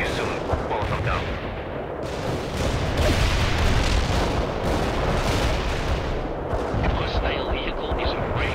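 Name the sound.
mortar artillery barrage in World in Conflict video game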